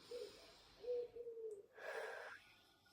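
A controlled exhale during a Pilates abdominal exercise, a soft breathy rush of air followed by a second, stronger breath, close to the microphone and quiet, with no talking.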